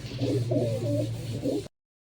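Pigeons coo in a loft, with a few layered throaty calls close by over a low steady hum before the sound cuts off abruptly.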